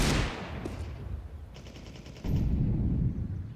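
Desert Eagle pistol fire in Counter-Strike 2, heard during a competitive esports match: a few sharp, loud, close shots with a dense burst of gunfire and game noise, broken by a brief quieter gap before the shooting resumes.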